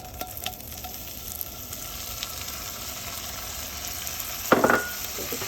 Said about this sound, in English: Once your butter is melted and your pan is getting hot, you're going to go ahead and add your sausage.